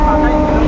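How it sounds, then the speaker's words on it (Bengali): Inside a moving passenger train, a loud, steady low rumble fills the carriage, close and continuous without a break. "ট্রেনে উঠে গেছি।"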